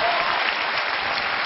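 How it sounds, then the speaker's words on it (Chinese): Steady, dense applause from a studio audience at a Chinese television job-recruitment show, loud and continuous throughout with no gaps or voices on top. "同样热烈的掌声送给下位老板"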